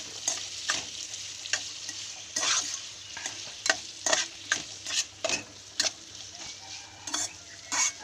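Chicken gizzard fry stirred in a frying pan with a spoon, producing a steady sizzle and repeated sharp scraping strokes against the pan in an uneven rhythm, close and clear with no talk.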